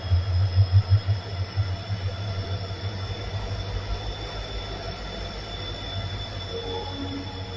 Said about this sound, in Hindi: ट्रेन का आवाज है।